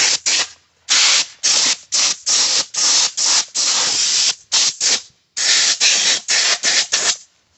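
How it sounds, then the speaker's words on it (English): Compressed air from a small blower head blasts a 2-stroke engine and its fins clean in a rapid series of loud, close hissing bursts, each under a second, separated by brief gaps. "if you have compressed air, then you could use that with a little head to blow the equipment clean"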